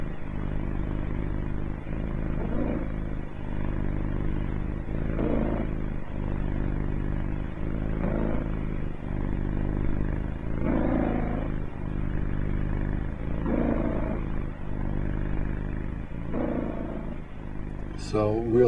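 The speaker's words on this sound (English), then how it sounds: "be quiet for a minute, and you'll hear the purr of love" A cat purrs close by in a soft, continuous low rumble that swells in a slow, regular rhythm with each breath, steady throughout.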